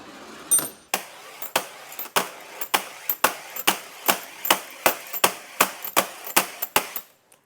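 Metal engine pushrods from a Rover 3.5 V8 rebuild roll across a slightly sloping flat surface, making a rapid series of sharp, bright metallic clicks and ticks, close and evenly spaced, with no talking.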